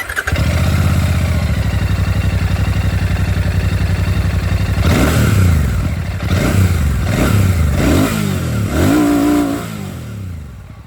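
A 2025 Royal Enfield Classic 650 twin-cylinder motorcycle idles with a steady deep throb, then is blipped through several sharp revs that rise and fall, loud and close.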